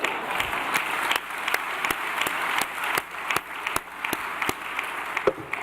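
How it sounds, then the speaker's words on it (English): A large audience at a keynote address in New Orleans applauds steadily for the Boston Globe, a dense, even wash of clapping throughout with a few sharper individual claps standing out. "they really give them a round of applause"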